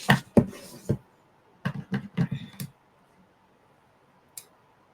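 Scissors cut through card stock while a holiday card is being made: two quick runs of crisp, close snips, then a quiet pause and one final small click.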